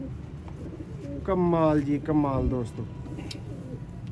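Sialkoti pigeons, an old bloodline, coo in a loud close burst of two rolling calls, with a voice speaking over the surrounding noise.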